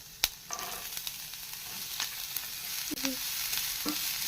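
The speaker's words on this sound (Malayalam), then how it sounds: "വെളിച്ചെണ്ണ ചൂടാണ്ടിട്ട് അരിഞ്ഞു വെച്ചിരിക്കുന്ന ഇഞ്ചിയും വെളുത്തുള്ളി ഇട്ട് കൊടുക്കാം." Chopped ginger and garlic frying in hot coconut oil, a steady close sizzle broken by a few sharp crackles and light utensil taps, with no talking.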